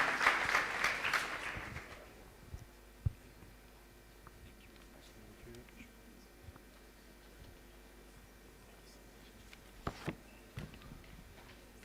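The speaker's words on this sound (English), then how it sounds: "A last round of applause, please." Audience applause at the AMLD Africa 2026 main stage event at Wits University in Johannesburg, a short burst of clapping at the start that fades quickly, followed by quiet room noise with a few scattered knocks.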